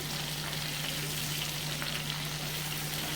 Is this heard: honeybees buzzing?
no